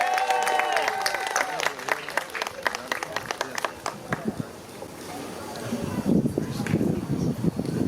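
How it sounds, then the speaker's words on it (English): An audience at a family dinner and gala breaks into applause, a dense burst of many hands clapping that thins into scattered claps and crowd murmur with some speech. "give him another round of applause"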